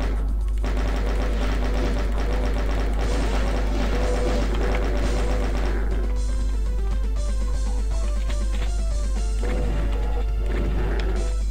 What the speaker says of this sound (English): Okay, there was a chain gun.